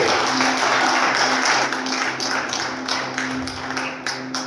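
Steady applause from a church congregation, dense and continuous, with a low hum underneath and the clapping gradually easing off toward the end.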